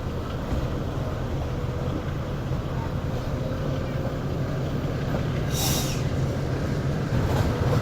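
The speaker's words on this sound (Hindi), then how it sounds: "तो चकलाला से निकल चुकी है हमारी ट्रेन।" Subak Raftar railcar train running on the line after leaving Chaklala: a steady low rumble and rushing noise with wind buffeting, continuous throughout with no talk.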